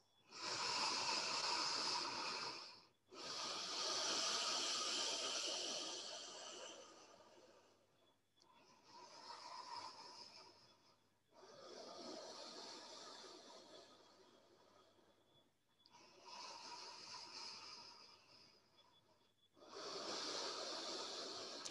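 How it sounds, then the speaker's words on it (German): Deep, slow yoga breathing: about seven long, airy inhales and exhales alternate in a steady rhythm, close and clearly audible with no talking. "atme in den Brustkorb ein und aus."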